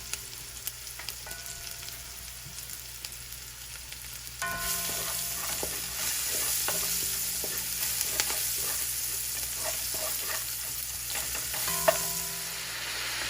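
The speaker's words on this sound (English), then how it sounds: "we're gonna allow this to sweat in our Jamaican cast iron pan, aka Dutch pot" Curry goat sweating in a Jamaican cast iron Dutch pot, a steady sizzle and crackle with occasional stirring scrapes, getting louder partway through and continuing without talk.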